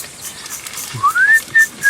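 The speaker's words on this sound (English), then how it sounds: "And then he starts whistling, but he is no longer holding the beer." A video game character whistles: after a quiet moment, a short rising whistled tone slides upward and is followed by a couple of brief clear notes, close and alone.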